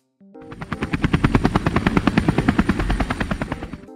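A helicopter's rotor thumps in a fast, steady rhythm, starting suddenly and staying loud and close for several seconds without any voices.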